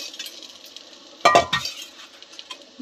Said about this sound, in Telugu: అదే కడాయిలో కొద్దిగా పసుపు వేసి ఫ్రై చేసి ముందుగా వేయించి పెట్టిన బెండకాయ పల్లీలను కూడా వేయాలండి